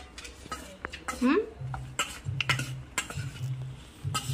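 Raw mango pickle with turmeric being stirred in a bowl, with close, irregular clinks and scrapes of a spoon against the dish and soft mushy sounds, plus faint background noises.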